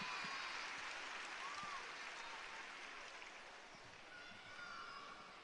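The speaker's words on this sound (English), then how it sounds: "an appreciative round of applause from the crowd here at the Robins Center" Crowd applause at a basketball game in the Robins Center arena, a broad, sustained wash of clapping from a large audience that holds steady and fades slightly, with a voice faintly over it.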